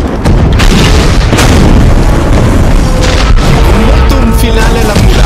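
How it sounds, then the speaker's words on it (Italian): Loud fireworks burst and boom in rapid succession during a mission finale in the video game Saints Row 2, a continuous crackling barrage of close explosions. "Con i fuochi d'artificio addirittura."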